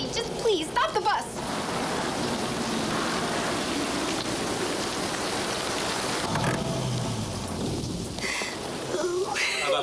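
Steady heavy rain pours down throughout, a dense hiss with a low rumble, and brief voices come through near the start and end.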